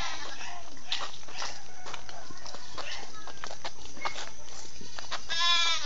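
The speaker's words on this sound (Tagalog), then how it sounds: "Ay, ay, saan ang goat?" A goat bleats a few times during a ride to the office, fairly close, with other farm-animal and clip-clop sounds and background voices; the clearest bleats come near the end.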